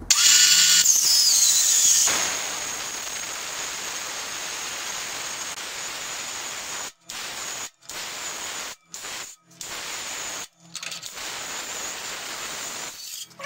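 A power saw cutting aluminum for a welded tool storage project gives a loud, steady, hissing whine that runs for about two seconds. A long stretch of quieter, broadband saw noise follows, broken by several short gaps near the end.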